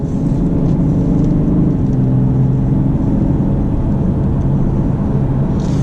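A 2017 BMW 335d diesel pulls onto the motorway, a low, steady engine drone and road rumble filling the cabin throughout, even and continuous with no voices.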